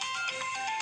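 Phone ringtone heard briefly during a spiritual talk at an ashram in Pune, a steady bright electronic melody filling the whole short moment, fairly loud and with no talk over it.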